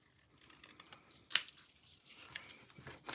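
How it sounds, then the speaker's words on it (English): Scissors snip through patterned craft paper, cutting paper circles in half; one crisp, quiet cut stands out amid soft rustling and handling noise. "I'll bring in my scissors and I'm just going to cut them in half."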